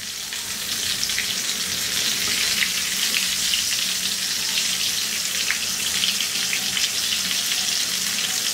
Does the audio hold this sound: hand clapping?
no